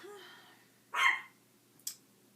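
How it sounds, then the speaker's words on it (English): A Chihuahua gives one sharp, high bark followed by a quicker, fainter yip, with a quiet pause between. "And hopefully my dog can stop barking."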